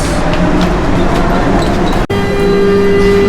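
A Mexico City subway train rumbles steadily along the tracks with loud, constant noise, and a brief drop in sound partway through as it passes Zócalo station without stopping.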